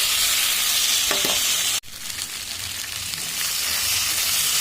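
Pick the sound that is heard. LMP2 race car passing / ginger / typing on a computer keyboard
ginger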